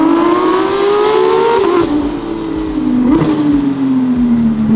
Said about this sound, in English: And that exhaust sounds very good.